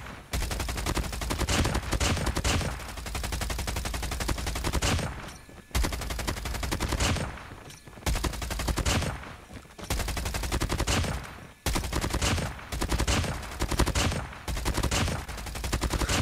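Rapid automatic gunfire from the FHJ-18 in Call of Duty Mobile rattles in long, loud bursts broken by short pauses, with no voices.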